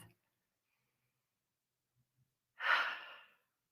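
Single slow breath during a guided meditation, a soft, near exhale or sigh lasting under a second, alone after near silence.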